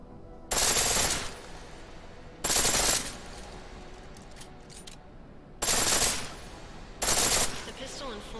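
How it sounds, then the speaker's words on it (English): A pistol in Deus Ex: Mankind Divided fires on full auto in four sharp rapid bursts, each about half a second long and separated by quieter gaps with faint background game sound. "The pistol in full auto will take down targets fast, but it'll burn through your ammo"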